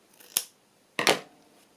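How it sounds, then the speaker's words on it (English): Scissors cut scraps of paper left over from making a journal cover, two crisp close snips, the second longer and louder, in a quiet room. "Maybe I'll just cut a bigger piece."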